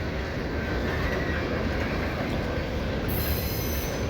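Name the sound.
freight train passing at CP Hall, Lincoln, Nebraska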